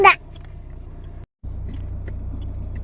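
A car is driven with a steady low engine and road hum running throughout, broken by a brief dropout, with a short jangle or clatter right at the start.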